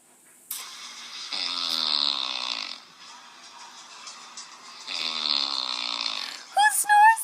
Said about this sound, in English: Who snores like that?